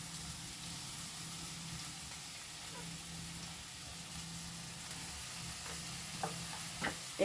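Carrot, capsicum and tomato for poha sizzling quietly in a pan under a steady frying hiss, with a few soft scrapes of stirring near the end.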